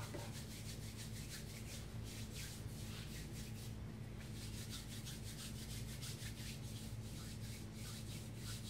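Hands rubbing spray tan onto skin on the back, a steady close soft brushing and rubbing in repeated strokes over a constant low hum, with no talking.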